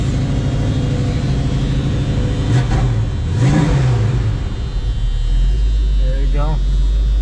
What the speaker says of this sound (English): that nice Mustang sound. Engine sounds very good.